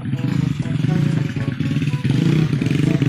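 A motorcycle engine running up close with a loud, uneven low throb that swells and dips slightly, with light mechanical clatter mixed in and a brief stumble midway.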